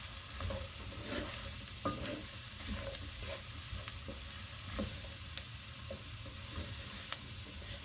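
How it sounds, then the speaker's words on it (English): A spoon stirs flour into a soup base in a hot pan for a cream of chicken soup, giving a steady low sizzle with soft scraping strokes and occasional clicks throughout, close and moderately quiet, with no talking. "So just keep stirring it for 2 to 3 minutes"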